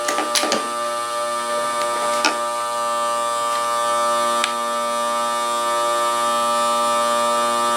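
Small electric motors of a carp fishing bait boat running on cruise control, a steady whine with high tonal hum, holding constant after a few brief clicks near the start.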